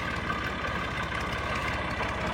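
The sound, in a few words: tractor with trolley engine idling on arrival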